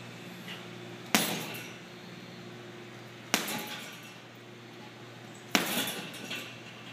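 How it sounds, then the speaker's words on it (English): Three right-hand uppercuts strike an uppercut bag, each a sharp, loud smack spaced about two seconds apart over a low steady hum. "just an example how you can throw a right-hand uppercut on an uppercut bag"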